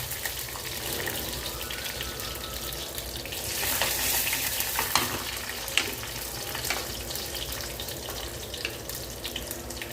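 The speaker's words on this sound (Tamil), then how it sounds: "பூண்டு நல்லா வதங்கி வரட்டும்" Garlic sautés in a pan for a Tamil kootu of ash gourd and field beans, a continuous close sizzle with occasional spatula scrapes, swelling louder midway.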